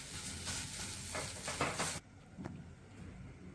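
Ghee sizzling in a pan while ingredients for sonth laddu are roasted, a dense close crackle with a few stirring scrapes that drops abruptly to a faint hiss halfway through.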